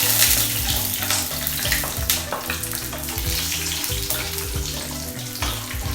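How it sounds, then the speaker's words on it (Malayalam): Cashews and peanuts fry in a pan with a steady, busy sizzle and crackle over background music. "കാഷ്യൂനട്ടും പീനട്ട് നമുക്ക് വറുത്തെടുക്കാം കേട്ടോ"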